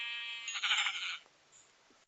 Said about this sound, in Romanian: Trebuie să taie aceste oi.